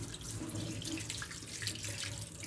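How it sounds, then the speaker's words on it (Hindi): Kitchen tap water runs steadily over raw fish being washed in normal, not hot, water, a continuous close splashing stream filling the whole stretch with no voices. "अब हम इसको नॉर्मल पानी से वॉश कर लेंगे, गर्म पानी से वॉश नहीं करेंगे।"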